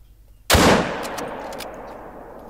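One loud, close rifle shot booms in the hunting game theHunter: Call of the Wild, its blast trailing into a long echoing rumble that slowly fades.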